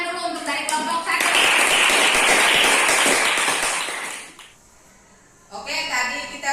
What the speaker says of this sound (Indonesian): Kita berikan tepuk tangan dulu untuk dari kelompok 1